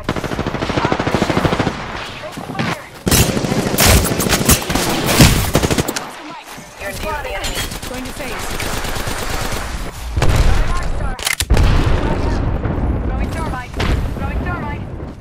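Dense video-game gunfire from a shooter match: sustained automatic bursts and heavy blasts fill most of the span, with a brief lull midway, while a player's voice talks over the action.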